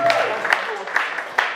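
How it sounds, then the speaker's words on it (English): Brief applause from a church audience welcoming Lady Pastor Gifty of Royal House Chapel before an opening prayer, scattered claps over a steady crowd wash at moderate level. "Let's give her a round of applause as she"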